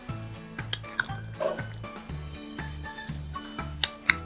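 Curd rice is stirred in a bowl with a spoon, giving soft rhythmic wet scraping strokes at a steady pace, broken by a few sharp metallic clinks against the bowl, close and fairly quiet.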